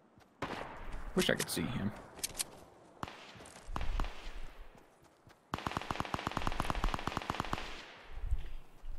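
Gunfire rattles in a Fortnite match, with scattered single shots followed by a long rapid burst of sharp cracks, while players talk over it.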